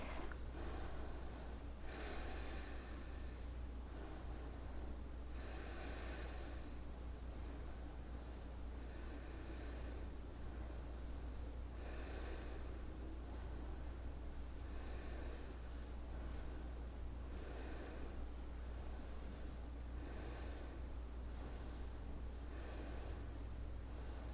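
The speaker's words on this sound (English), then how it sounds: "Breathe." Slow, deep breathing during a yoga practice, a regular series of soft airy inhales and exhales about every three to four seconds, faint against a steady background hiss, with no talking.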